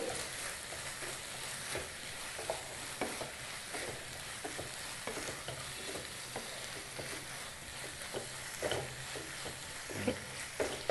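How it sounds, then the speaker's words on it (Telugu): Spice powder being stirred into a simmering tomato, cauliflower and potato curry, steady soft sizzling with scraping stir strokes throughout, close but quiet, no talking. "పొడిని వేసి కర్రీ అంతా కూడా పొడి బాగా కలిసేలాగా కలుపుకోవాలి"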